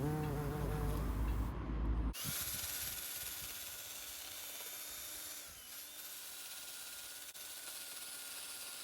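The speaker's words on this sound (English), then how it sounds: "the bees are in the flowers getting all the nectar right next to my ear" Bees buzz among flowers in a garden, a faint, thin drone close by that carries on after a brief louder burst of noise at the start.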